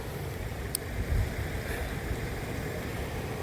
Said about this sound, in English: Here's Newton Falls, going from Fall Lake into Newton Lake over here.